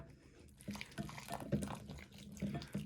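Warm water poured a little at a time into a mushroom-flavoured meal replacement soup mix, soft trickling splashes in short bursts, close and faint.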